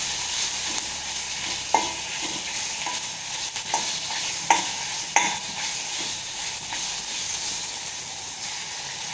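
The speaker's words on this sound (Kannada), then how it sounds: "ಹೆಚ್ಚಿಟ್ಟಿರುವಂಥ ಮಾವಿನಕಾಯಿ ಹಾಕಿ ಬಾಡಿಸ್ಕೊಳ್ಳಿ" Chopped wild mango sautés with turmeric powder in a hot pan, giving a continuous close sizzle and hiss broken by a few sharp spatula scrapes and stirring knocks.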